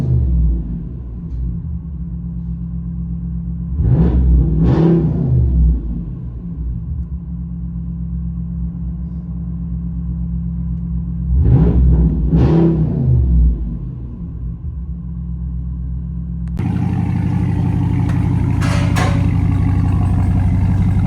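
A 2022 RAM Power Wagon with a 6.4L HEMI V8 and straight-pipe exhaust rumbles deeply at idle on a freezing day, blipped twice into loud, short revs, then the tone shifts to a duller, steadier drone.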